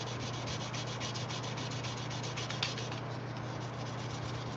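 A knife blade being hand sanded with 320 and 400 grit abrasive at a forge: a steady, continuous close-up rasping rub with even back-and-forth strokes, a low hum underneath and no talking.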